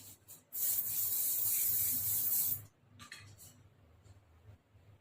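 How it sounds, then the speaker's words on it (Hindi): Oasis shine spray is misted onto a braided ponytail in one long, close hiss of about two seconds, followed by faint rustling and handling sounds. "ये ओसिस का शाइन स्प्रे है, हम इसके ऊपर शाइन स्प्रे करते हैं"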